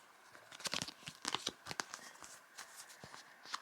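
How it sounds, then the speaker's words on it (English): A handful of tarot cards is shuffled close by in short, quiet papery riffles and crinkles, arriving in uneven bursts. "Let's do a tarot pull. Just wait there a minute and I'll shuffle them."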